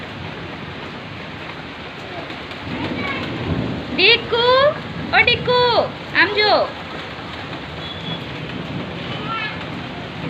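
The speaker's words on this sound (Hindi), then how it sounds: "ये देखो पर बरसात यहाँ पर फुल चालू है। यहाँ पर देखो फुल चालू है, मतलब बिजली कड़क रही है" Heavy rain pours steadily throughout during a thunderstorm, a dense constant hiss close by, with a few short calls from a person breaking through the middle.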